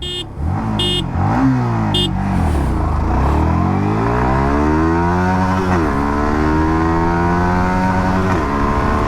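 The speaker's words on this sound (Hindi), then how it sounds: "अब चलिए यहाँ पर जो एक्सेलरेशन टेस्ट है उसको कंप्लीट करते हैं" A Yamaha XSR 155 motorcycle accelerates hard during an acceleration test, its engine note climbing repeatedly and dropping at each gear change, loud and close throughout.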